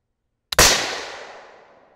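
A .308 Win rifle cartridge firing after a hang fire: one sharp, loud report bursts out of silence, preceded by a tiny click, then rings and decays slowly over more than a second.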